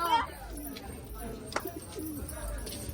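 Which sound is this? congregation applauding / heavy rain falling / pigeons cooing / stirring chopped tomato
pigeons cooing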